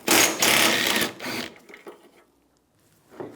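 A ratchet or socket wrench turning a bolt on a 2004-2009 Toyota Prius headlight assembly with a 10mm socket, a loud close whirring burst followed by softer clicks and a brief pause.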